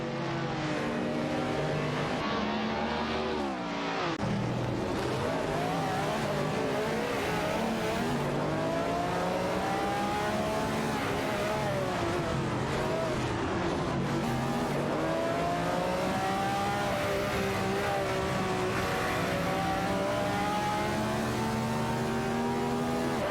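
Race cars, including a McLaren, battle for position in a racing video game, with several engines revving and sweeping through gears at once, a brief dip early on, and a steady, loud, layered drone throughout.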